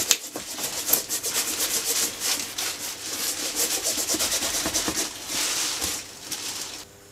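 A leather handbag gets cream rubbed into it by hand, a steady close scratchy swishing of cloth or fingers over the hide that goes on with short pauses and no talk.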